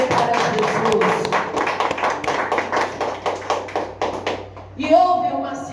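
A church congregation claps in a steady rhythm, loud and close, with voices singing or talking over it before it fades near the end.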